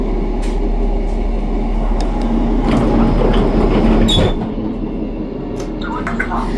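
A train rumbles steadily as it pulls into a station, with a low sustained drone and faint clatter that eases off toward the end; a voice talks over it.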